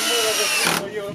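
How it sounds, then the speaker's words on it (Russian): A cordless drill-driver whines loudly as it drives screws, its pitch and load shifting partway through, up close during camp repair work on a rafting trip. "Все что-то крутят, девочки тоже схватили шурупан."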